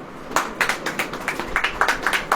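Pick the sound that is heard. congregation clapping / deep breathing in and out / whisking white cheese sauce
congregation clapping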